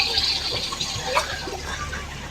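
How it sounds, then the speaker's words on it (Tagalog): Clear water flows out of the ground at a mountain resort with a steady, close rushing and splashing that continues without a break, and there are no voices. "At dyan may lumalabas na tubig."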